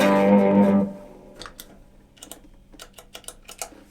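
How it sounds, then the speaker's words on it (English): One electric guitar chord with overdrive distortion, both overdrives engaged, rings out loud and fades, followed by faint scattered clicks. "You can actually turn both overdrives on"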